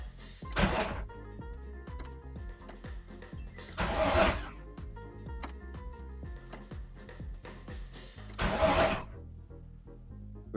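Volkswagen Corrado VR6 Turbo engine cranked on the starter in three separate bursts, each a close, loud whirring crank lasting under a second, without catching, between quieter pauses.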